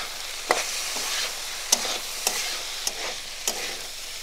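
Jackfruit frying with ground spices such as cumin and ginger paste for a spicy curry, a steady hiss of sizzling oil punctuated by five evenly spaced scraping knocks of a spatula against the pan.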